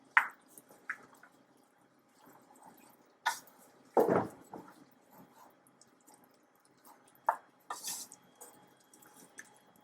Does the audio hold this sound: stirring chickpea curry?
yes